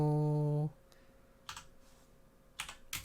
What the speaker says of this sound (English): Hold on, I'm typing it in now.